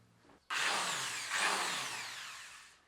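A power drill boring into glass starts abruptly with a loud, high whine that holds steady, surges briefly, then slowly fades, alone without voices.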